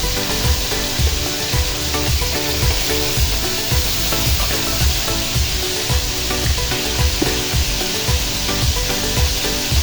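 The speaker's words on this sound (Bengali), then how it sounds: "আমি এটা সুন্দর করে ফ্রাই করে নেব।" Chicken and potatoes fry in a pan, a loud, steady sizzle with rhythmic scraping from stirring running throughout, close and without voices.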